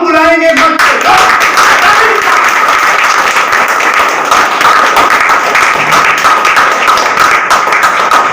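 A crowd gives loud, sustained applause at a stage event as a guest named Ajay is welcomed onto the stage, with dense clapping filling the whole stretch and some faint voices underneath.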